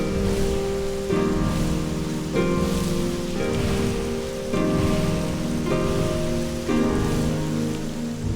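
Steady rain falls in the video game Flower, a soft, continuous patter over a layered musical soundtrack with no talk.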